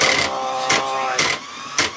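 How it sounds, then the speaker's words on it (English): An old sewing machine turning stiffly, giving heavy periodic clacks about every half second over a steady mechanical whir, as if seizing on each rotation. "It had a heavy clack and it was seizing as it turned."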